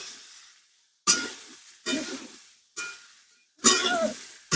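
Sweet potato pieces for a curry frying in a pan with salt, in a village kitchen, giving four bursts of loud close sizzling, each fading before the next stir.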